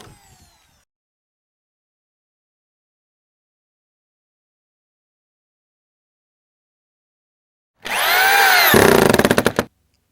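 A power drill drives a screw through transition plywood into a wooden halfpipe deck support beam. The motor whines up in one loud burst of about two seconds after a long silence, then sputters to a stop.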